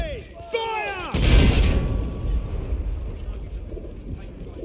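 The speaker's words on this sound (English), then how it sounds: "All artillery, fire!" Artillery guns fire in the World War I game Battlefield 1, first as a sharp report near the start, then as a huge booming blast around one second in that rolls on as a long rumble, with whistling shells early on.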